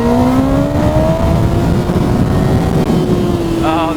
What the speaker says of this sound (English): Just rev it out for the boys.